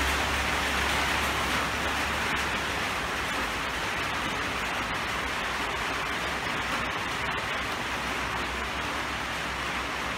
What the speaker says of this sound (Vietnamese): Mưa đấy, mưa.